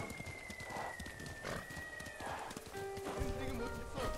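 In the video game Ghost of Tsushima, a horse gallops with steady rapid hoofbeats throughout, moderately loud, with a whinny-like tonal sound and game ambience mixed in while someone talks over it.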